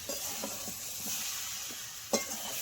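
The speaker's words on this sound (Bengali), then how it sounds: "এবার আমি এই ভেজে রাখা মাছগুলোও দিয়ে দেবো কচুর সঙ্গে এরকম আমি 1 মিনিট মতো একটু নেড়ে চেড়ে নেবো" Pre-fried koi fish with mankochu (giant taro) is stirred in a hot pan: a continuous close sizzle, with soft scraping strokes at intervals and one sharper clack near the end.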